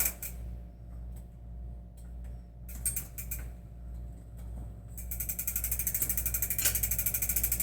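Clicking ratchet-like ticks come from a wrench tightening a bicycle pedal on a cheap bike while the crank is back pedaled, faint at first and then a rapid, steady clicking run near the end over a low hum.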